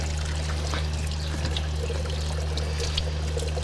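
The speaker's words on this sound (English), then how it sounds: "go ahead and turn on the water" Tap water pours steadily into a sink over a lotion disc being rinsed after dyeing with ProChem dyes, a continuous close splashing flow with a low steady hum beneath.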